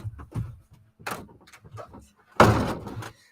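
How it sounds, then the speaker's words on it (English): A door is shut: scuffling and handling sounds lead to a loud, close slam near the end, with soft movement noises before it. "Yeah, I'll shut the door."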